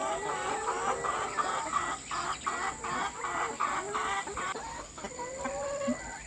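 A flock of about 200 fifteen-month-old laying hens clucks and chatters continuously inside a coop. The layered, busy calls are close and steady, with a constant high hum in the background and no speech.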